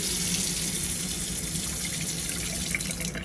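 Water runs steadily from an RV faucet fed by a small holding tank with the Shurflo pump switched off, a continuous close hiss and splash that holds level throughout, with no talking.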